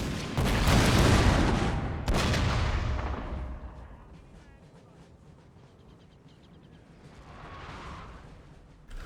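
Cannon artillery in a Napoleonic-era battle game opens with a couple of loud, booming blasts that roll into a long rumbling decay, then the din settles to a quieter distant swell.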